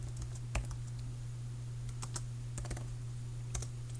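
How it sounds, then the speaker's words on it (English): Code is typed on a computer keyboard in short, sparse bursts of light key clicks over a steady low hum, with no talking. "let's just go ahead and write some code to create a variable in F#."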